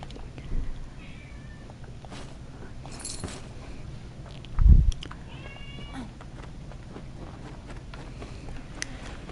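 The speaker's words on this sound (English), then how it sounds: "The meowing in the background is not anything to be concerned about." A cat meows off and on in the background, a few drawn-out cries spread across a quiet room with faint shuffling sounds and one louder thump midway.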